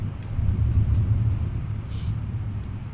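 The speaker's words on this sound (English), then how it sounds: "if you can hear, there's thundering outside" Low thunder rumbling outdoors during a rainy spell, a steady deep roll lasting throughout, moderately loud with no other distinct sounds over it.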